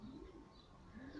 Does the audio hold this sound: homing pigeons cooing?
yes